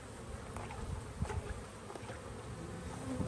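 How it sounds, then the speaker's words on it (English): Honeybees from a bee package buzz in a soft, continuous drone, with individual bees passing briefly louder near the listener. "These bees are going to want to come out of here."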